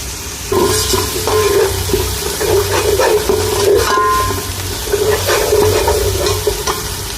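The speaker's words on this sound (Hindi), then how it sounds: "अब इसको हम थोड़ा सा भून लेंगे।" Fish korma masala with coriander powder being roasted in a pan gives a loud, continuous sizzle with scraping stir strokes and clinks that rise and fall, heard alone without any voice.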